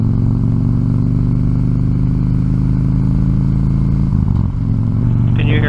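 A motorcycle engine runs loud and close on a group moto ride across the Great Plains, a steady throbbing drone that stays constant, with a slight dip in pitch near the end.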